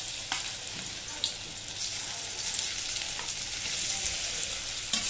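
Chunks of elephant yam fry in hot oil in a kadhai, giving a dense, even bubbling hiss close by, with a few soft ladle taps and stirring scrapes and no one speaking.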